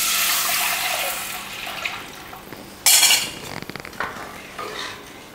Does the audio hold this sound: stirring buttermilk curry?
yes